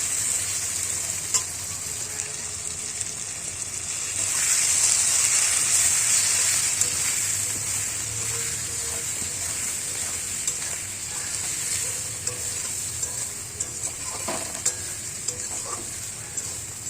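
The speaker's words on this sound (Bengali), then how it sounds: "হলুদ দিয়ে আবার নাড়াচাড়া করতে থাকবেন" Potatoes fry in hot oil with salt and turmeric for a rohu fish curry, giving a steady, close sizzle broken by scraping, clattering stirs of a spoon in the pan.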